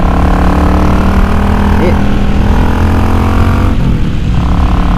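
Loud, close motorcycle engine with a K&N filter and Mikuni re-jet, holding a steady throaty drone with slight pitch changes throughout, while a person talks faintly over it.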